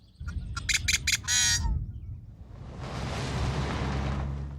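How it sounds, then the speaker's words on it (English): Marsh birds call in the morning, with a few sharp squawks and chirps up close, followed by a steady broad wash of background noise. "you can hear quite a few birds. Amid the chorus of melodies"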